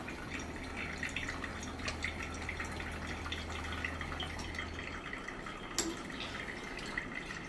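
A Poursteady PS1 pour-over coffee machine runs a steady, soft stream of water into a filter, a faint continuous trickle with light drips, and a low hum that stops partway through.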